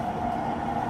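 A JR Kyushu section rapid train on the Kagoshima Main Line, running from Kokura toward Kurume, hums steadily from inside the car, with a continuous motor whine over a broad rumbling roar throughout.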